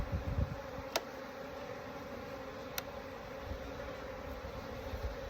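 Honeybees in an opened hive during an inspection make a continuous close buzzing drone, with a couple of faint sharp clicks.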